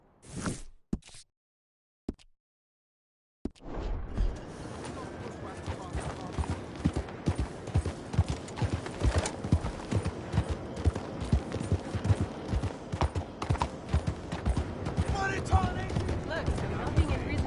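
A horse gallops in Red Dead Redemption 2, its hooves striking in a fast steady rhythm that carries on for a long stretch, under occasional voices after a few quiet starts.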